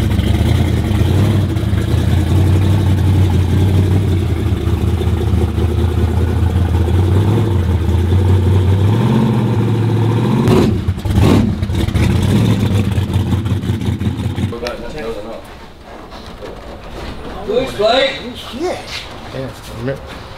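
A car engine with all of its exhaust removed revs hard and loud close by for about fifteen seconds, a raw, rough roar that then drops away to quieter rumbling.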